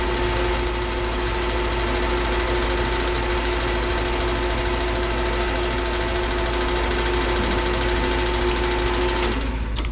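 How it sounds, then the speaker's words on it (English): A running lathe hums steadily and close, a continuous machine drone with a thin high whine on top, uninterrupted until a brief clunk near the end, with no voices. "turn the lathe on"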